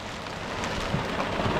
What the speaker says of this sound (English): Look at the bloody hail on the ground.